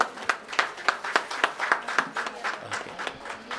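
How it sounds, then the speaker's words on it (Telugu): Audience applause at a theological university graduation and awards ceremony: steady, fairly soft clapping from a crowd, heard from a moderate distance with an even, rapid rhythm for several seconds. "అందరూ క్లాప్స్ కొట్టండి"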